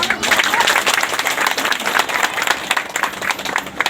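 Audience at a Sarna faith prayer meeting in Chandwa, Latehar, clapping hands together in a dense, steady round of applause, loud and close.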